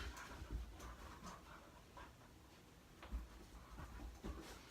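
Quiet, rhythmic panting from dogs in the room, soft breathy puffs repeating unevenly with faint background rumble.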